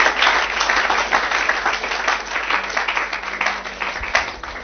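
A church congregation applauds steadily during a Sunday service, dense sustained clapping from many hands with no pause and a slight dip near the end.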